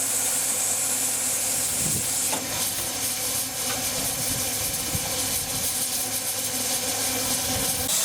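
Steam locomotive John O'Gaunt standing in position on a miniature railway, giving off a steady, continuous hiss of steam with a faint low engine rumble, fairly close and with no talking.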